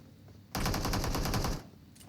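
A single sustained burst of rapid Uzi fire in a video game, about a second long, loud and dense, followed by a faint short tail.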